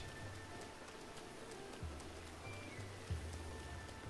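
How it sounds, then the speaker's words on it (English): Rain in the video game The Legend of Zelda: Breath of the Wild, a faint, steady patter over a low hum, with a few soft thumps. "It's hard to see with the rain."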